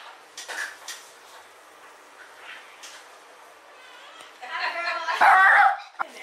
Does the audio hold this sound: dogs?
yes